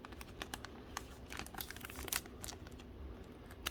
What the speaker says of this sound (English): I'm going to put it in this team bag,